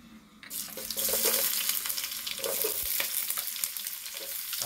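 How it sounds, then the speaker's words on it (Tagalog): Onion drops into hot oil and starts sautéing with a sudden loud sizzle that settles into steady, close crackling and spitting, along with a few stirring clatters. "Mag-aano na tayo, magigisa na. Ilagay na po natin ang onion."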